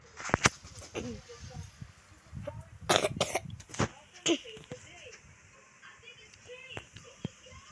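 A few sharp coughs and throat clearings come in bursts amid quiet background sound, with light talk nearby.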